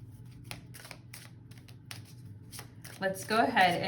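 A deck of tarot cards is shuffled close up in a series of quick, crisp riffling bursts, followed at the end by a voice starting to speak.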